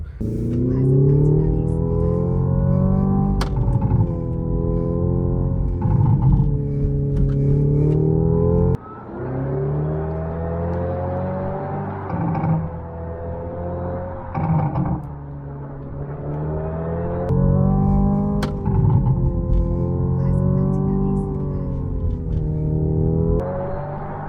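A Hyundai Ioniq 5 N electric car's synthetic engine sound, heard from inside, rises and falls in smooth revving sweeps while driving, loud and close, with brief pauses between accelerations.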